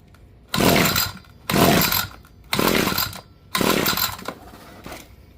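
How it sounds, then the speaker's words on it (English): An ECHO SRM-2620 string trimmer, set on choke, is pull-started four times in a row. Each loud, close burst of rattling engine noise lasts under a second and is followed by a short pause, and the engine never catches. "Let's try doing it on choke."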